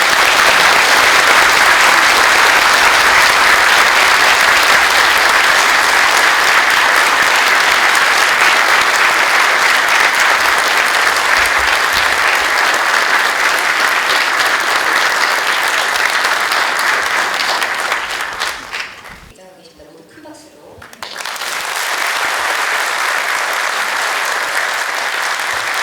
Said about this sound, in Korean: 모두 큰 박수로 환영해 주시기 바랍니다